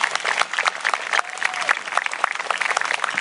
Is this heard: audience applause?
yes